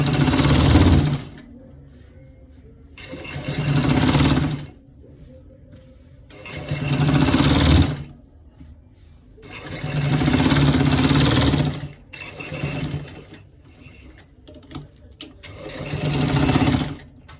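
A sewing machine stitches a collar roll in several loud bursts of steady motorized whirring, each lasting one to two seconds, with short quiet pauses between runs.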